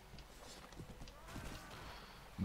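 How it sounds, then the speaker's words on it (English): Horse hooves pounding in a medieval battle in the Mount & Blade Warband mod Swadian Interregnum 1387, a quick run of dull clip-clop beats over a busy clatter of combat noise, ending in a sharp low thump. "I hear that there are different sound effects as well for, like, horse hooves or when you're running"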